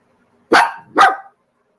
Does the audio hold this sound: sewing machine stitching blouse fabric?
no